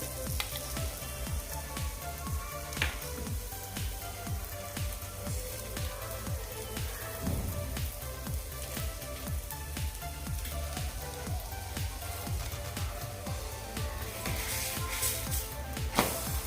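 A cheese paneer paratha with fenugreek fries in butter on a pan over a medium flame, giving a steady close sizzle and crackle that runs unbroken throughout, with no voices.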